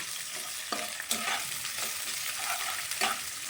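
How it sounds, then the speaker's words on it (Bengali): Chilies, cashews and raisins frying in a pan, a steady close sizzle broken by sharp scraping strokes of a spatula stirring at irregular intervals. "এখানে কাজু কিশমিশ দিয়ে এটা একটু একটু ভেজে নিচ্ছি"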